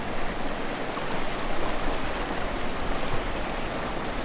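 A strong stream of water flows steadily in the Eastern Wheatbelt of Western Australia, giving a loud, continuous rushing wash that stays even throughout, with no voices.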